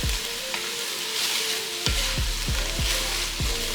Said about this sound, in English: So all them bell peppers and onions that we cut up earlier, go ahead and add those on in. We're gonna cook these down